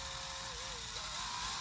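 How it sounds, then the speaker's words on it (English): Small drill boring a hole in a part for a 1:14 scale Tamiya Globe Liner RC truck, a steady continuous whine with a slight pitch shift midway, close and even throughout. "now go ahead and finish drilling the hole"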